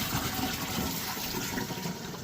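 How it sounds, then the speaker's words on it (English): Water spilling as a small waterfall onto a sieve at a koi pond, a steady broadband splashing and trickling that holds even and close throughout, with no talk. "Now I put this on like that to create a little waterfall onto the sieve."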